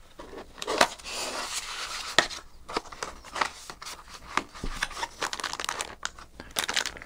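Small cardboard boxes are pulled out of product packaging for a motorcycle helmet communication system, giving close, irregular crinkling, rustling and scraping of cardboard and plastic in short bursts with brief pauses.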